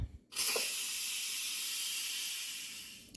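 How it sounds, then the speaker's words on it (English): A pressure cooker vents steam after cooking rice, a loud steady hiss that bursts in after a brief pause and holds nearly unchanged for about three seconds before easing slightly. "I'm going to go ahead and release the steam that's in here"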